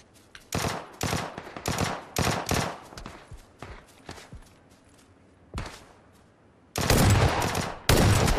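Gunfire in PUBG on Xbox One X: several loud bursts of automatic rifle fire in quick succession, separated by short pauses, with a few single shots and two heavy, sustained bursts near the end.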